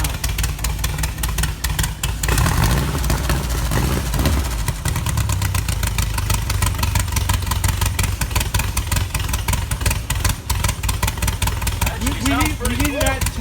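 VW buggy engine running steadily after a carburetor swap, a loud, close rough idle that holds at a constant level, picking up slightly after a brief rise early on.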